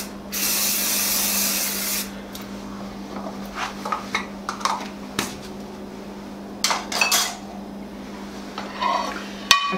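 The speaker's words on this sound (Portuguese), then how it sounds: "Aí eu tenho esse spray que eu vou passar aqui." Cooking-oil spray hisses in one loud, steady two-second burst over a silicone mould. Scattered clicks and soft knocks from handling the can and dish follow.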